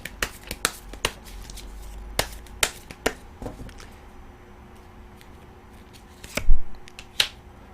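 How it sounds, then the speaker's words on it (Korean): A tarot card is drawn from the deck in a run of crisp, close card snaps and flicks, some quick and clustered, others spaced out, with a louder rustle near the end. "그러면 마지막 카드 하나 뽑아볼게요"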